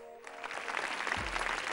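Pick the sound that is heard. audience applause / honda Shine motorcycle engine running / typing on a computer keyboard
audience applause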